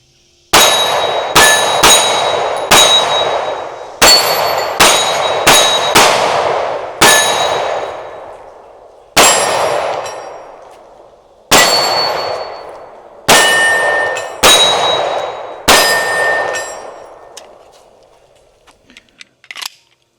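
A Canik Prime pistol fires about a dozen loud shots outdoors on a muggy day, each followed by a ringing clang from a struck steel target, in irregular pairs and singles, with a few faint clicks at the end.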